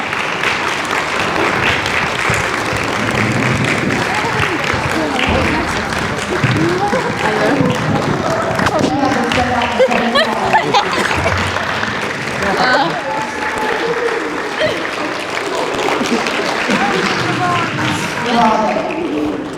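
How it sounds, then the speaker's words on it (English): An audience applauds student performers at a school storytelling showcase, a steady dense wash of clapping from a sizable crowd that holds for the full stretch with a murmur of voices mixed in. "I want us to give them a round of applause"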